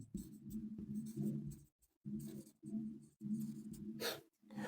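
Writing on a board during a lesson on the past perfect tense: close scratchy strokes in short bursts, separated by brief pauses, with no talk.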